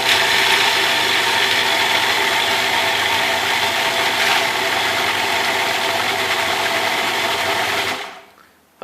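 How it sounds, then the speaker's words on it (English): A food processor whirs steadily and loudly for about eight seconds as olive oil drizzles in for a cilantro-lime pesto, then the motor cuts off abruptly near the end. "I have the olive oil slowly going into the food processor to make the pesto"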